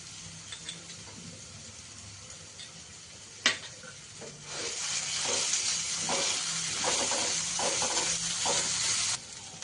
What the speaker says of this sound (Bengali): এবার রসুনটা দিয়ে একটুখানি ভালো করে নাড়াচাড়া করে নিই যাতে রসুনের কাঁচা গন্ধটা চলে যায়